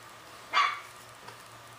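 One short, sharp dog bark, fairly close, over a quiet low hum in an indoor workshop where composite model parts are molded.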